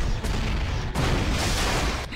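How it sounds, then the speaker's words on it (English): A Borg cube blows apart in the space combat game Star Trek Bridge Commander: loud, rumbling, crackling blasts roll on in waves and break off sharply at brief gaps, with no voices over them. "That's going to be a big explosion."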